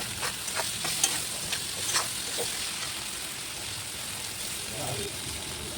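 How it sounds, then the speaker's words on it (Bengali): Oil with turmeric powder fries in a pan with a soft, steady sizzle, close by, and a few light stirring taps near the start. "দিয়ে কিছুক্ষণ ভাজতে লাগলাম"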